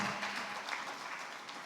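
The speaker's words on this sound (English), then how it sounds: "A round of applause for the Honorable Minister" Conference crowd at the AFNIS 2026 closing session applauds the Honorable Minister, a soft, distant-sounding wash of clapping that stays even for the whole moment with no talking.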